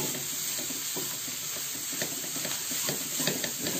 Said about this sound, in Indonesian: Ini kita tumis sampai aduk dulu ya, sampai rata